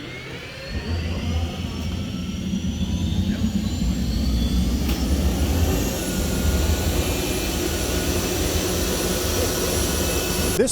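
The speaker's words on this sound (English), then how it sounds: "The distinctive whooshing sound of the turbine engine is unmistakable." A turbine-engine car gives a steady jet-like whoosh and roar that builds over the first few seconds, with a high whine gliding slowly upward, then holds loud and continuous.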